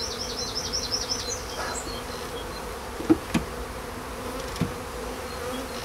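Honey bees buzz around an open hive during an early spring inspection, a steady close droning hum with a few individual bees whining past, plus occasional soft knocks from handling the frames.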